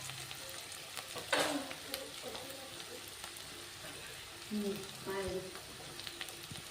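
Curry leaves and onion frying in a pan for a ridge gourd stir-fry, a steady soft sizzle with a couple of louder stirring scrapes; a voice talks faintly underneath.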